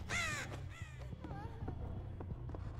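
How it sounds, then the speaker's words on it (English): Crows caw in the Dead by Daylight video game: several short, harsh caws in quick succession, fairly faint, over a low rumbling game background. "I wonder if the crows are like a sort of sign to say, oh yeah, they're near here somewhere."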